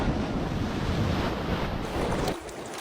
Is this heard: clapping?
no